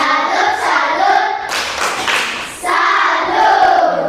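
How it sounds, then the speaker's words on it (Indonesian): A group, apparently a school class, claps together in a brief burst of applause that swells for about a second, with singing voices before and after. "Kita kasih tepuk salut dulu untuk William."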